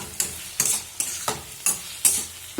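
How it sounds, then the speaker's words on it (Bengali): New potatoes are stirred into onion, garlic and spice paste in a pan, with about six sharp scraping strokes in an uneven rhythm over a soft background sizzle, close and alone. "এবার আমি এর মধ্যে আলুটা দিয়ে আরও ভালো করে মশলার সাথে কষবো।"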